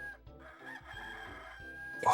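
Chickens clucking and crowing in the Dreamcast game Disney's 102 Dalmatians: Puppies to the Rescue, a short burst of fowl calls over game music, rising sharply in the final moment.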